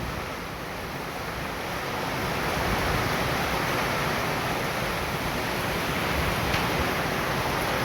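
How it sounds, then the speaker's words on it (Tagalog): Strong wind after heavy rain roars steadily, building slightly in strength partway through, with a gusty, blustery rush and no talking. "lumakas yung hangin bigla pagkatapos ng malakas na ulan hangin naman ngayon"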